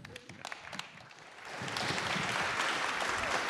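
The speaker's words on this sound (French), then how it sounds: "il me faut un tonnerre d'applaudissements, s'il vous plaît" Applause breaks out from a conference audience after a few scattered early claps, then swells into a steady, moderately loud round that continues to the end.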